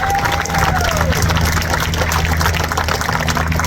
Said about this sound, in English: So with a big round of applause, please say hello to Denise Day